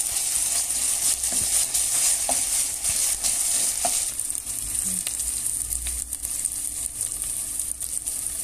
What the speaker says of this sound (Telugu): ఈ అల్లం వెల్లుల్లి పేస్ట్ పచ్చి వాసన పోయేంత వరకు వేయించుకోవాలండి